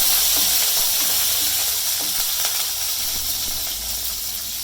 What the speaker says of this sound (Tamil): வெங்காயம், பூண்டு, மிளகாய், கருவேப்பிலை, கொஞ்சம் வதக்கிட்டு